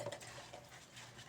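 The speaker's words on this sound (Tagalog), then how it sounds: "Ganyan po ako maghugas ng pinggan, lalo na yung mga kutsara." Dishes and spoons being washed under running water, with steady splashing and faint clinks of metal cutlery against plates throughout, close and moderately quiet.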